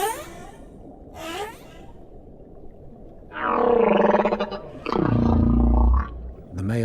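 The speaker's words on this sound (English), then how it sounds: "The male humpback may sing for hours or even days." Male humpback whale song underwater: rising and falling moans and squeals, then long, loud, low groaning calls, surrounded by faint ocean hiss, with no voices.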